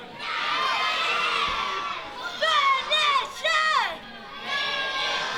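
Wrestling crowd at a live tag team event in Newcastle cheers loudly and steadily, with bursts of shrill whoops and shouts rising over the sustained roar.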